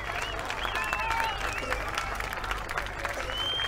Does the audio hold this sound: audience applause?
yes